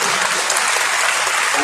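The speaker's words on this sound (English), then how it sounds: "Let us give a big clap to Our Lady" A crowd at a charismatic church conference claps loudly and continuously in a brief, dense burst of applause.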